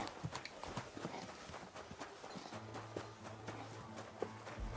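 Horse hooves clip-clop at a walking pace in a video game, steady muffled thuds over a busy ambient background with no speech.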